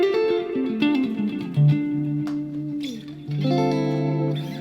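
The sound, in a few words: clean electric guitar tone with Legacy Spring reverb, Line 6 Helix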